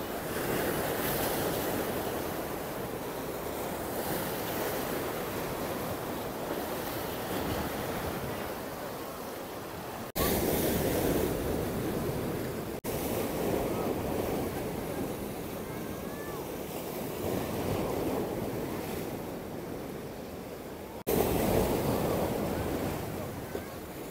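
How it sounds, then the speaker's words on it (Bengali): Large ocean waves surge and break on a rocky shore in South Vizag, Visakhapatnam, a continuous loud roaring wash with swelling peaks, heavy wind buffeting the microphone throughout. "মাঝে মাঝে এত বড় বড় ঢেউ আসছে"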